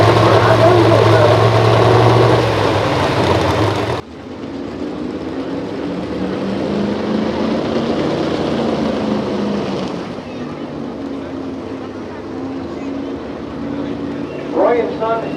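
Garden tractor engine at a tractor pull, a loud continuous drone that drops briefly then holds a rough, steady roar with wind buffeting and an announcer talking over it.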